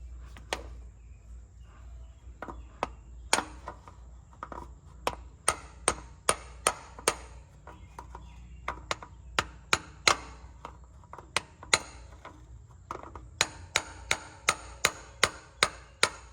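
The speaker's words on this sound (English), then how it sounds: "We're going to use this hammer and chisel, but this way you have to be careful because you could chip the casing on the oil filter." Hammer and chisel striking the oil filter casing of a 2010-2024 Toyota Prius: a long series of sharp metallic taps, irregular at first, then quickening into rapid bursts, close and clear over a faint background hum.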